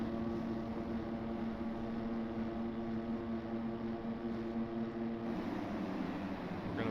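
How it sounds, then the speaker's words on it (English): Engine drone with steady harmonic tones from high-revving motocross bikes at a C Class Hero's SMX Series race in Lakewood, Colorado, continuous and fairly loud with no talk. "Revs are high."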